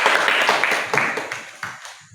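A classroom of students claps briefly for a classmate during an art lesson. The short burst of applause fades quickly.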